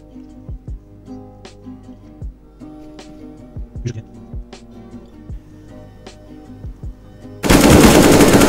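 Gunfire in Counter-Strike: Global Offensive, several crisp single shots and short bursts ringing out against steady game background hum, ending in a loud burst of noise.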